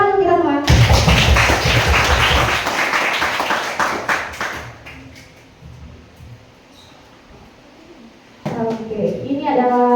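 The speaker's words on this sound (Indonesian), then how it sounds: "Tepuk tangan untuk kita semua." A group of people claps together at a school workshop, a loud burst of clapping that thins into scattered taps before fading, with speech before and after.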